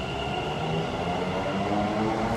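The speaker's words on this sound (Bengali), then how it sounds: "এই যে একটা মেট্রো এসে কিন্তু দাঁড়িয়ে আছে" A Kolkata metro train moves along an underground platform, a continuous rumbling roar of wheels and motors with a faint high whine, loud and steady throughout.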